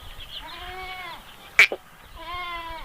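A goat bleats twice close by, long wavering calls separated by a brief sharp knock.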